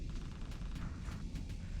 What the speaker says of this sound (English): Man, why would you shoot like this?